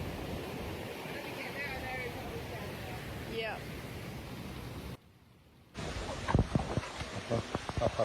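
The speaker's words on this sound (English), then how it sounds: "Sometimes, the waves have a mind of their own." Ocean waves rolling onto a beach make a constant loud wash of surf and wind noise that drops out briefly before heavier crashing resumes, with people talking in the scene.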